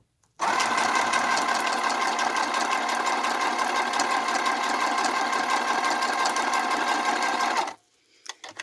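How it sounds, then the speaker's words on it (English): A sewing machine stitches lace onto paper in one unbroken run of about seven seconds, a close, steady, fast mechanical whirr that stops abruptly, with no talking. "line the lace up to where you want to sew it. And let's get sewing."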